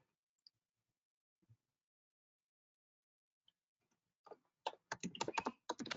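Keystrokes on a computer keyboard as an npm install command is entered, a few isolated clicks at first, then a dense burst of rapid typing near the end, close and fairly loud against a silent background.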